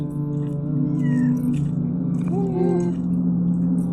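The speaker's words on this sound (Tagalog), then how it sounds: "So ang gulo ng mga pusa oh." Several cats meow over and over in a shrine cemetery, rising and falling cries close by, over a steady low hum of background noise.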